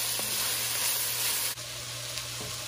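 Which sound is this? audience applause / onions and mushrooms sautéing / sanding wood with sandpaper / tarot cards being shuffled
onions and mushrooms sautéing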